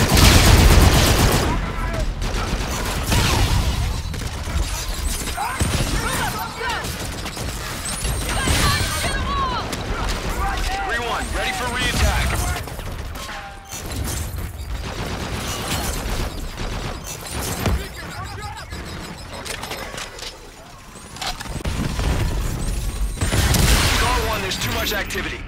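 Heavy gunfire from an aircraft gun run in the Call of Duty Infinite Warfare video game, dense continuous bursts and crashes lasting throughout, loud and close, with radio chatter mixed in.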